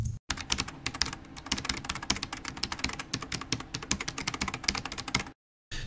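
Rapid typing on a computer keyboard, close and crisp, with dense irregular key clicks running almost continuously before a brief pause at the end.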